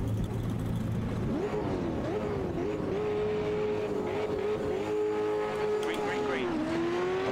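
Stock car engine in the racing game Automobilista 2, revving loud and steady with clear pitch rises and drops as the car accelerates and brakes, continuous throughout.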